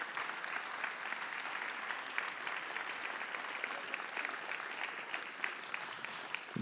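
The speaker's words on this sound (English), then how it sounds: "give me a big round of applause" Audience members at an Oregon Symphony arts evening give a sustained round of applause, many hands clapping evenly and continuously for several seconds, moderately close and with no speech over it.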